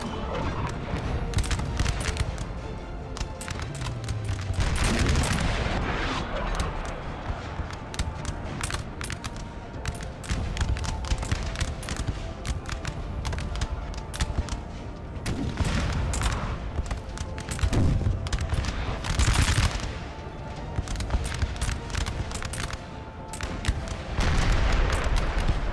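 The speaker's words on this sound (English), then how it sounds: "We've got blue team artillery trying to drive the enemy back." Artillery fire in the video game Napoleon: Total War, a 4v4 battle with dense, continuous cannon booms and rolling musket volleys, loud and overlapping from near and far, with no pauses.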